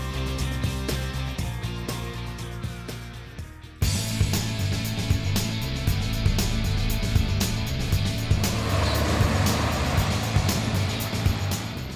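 A loaded 2021 Isuzu FSR 140-260 tipper truck, carrying about 70–75% of its gross vehicle mass, drives along with a steady diesel engine drone heard from inside the cab. The engine note jumps up partway through as the truck pulls harder.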